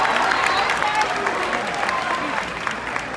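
Applause from the audience at a middle school graduation, a steady full round of clapping from a large crowd that tapers off slightly at the end, with voices mixed in.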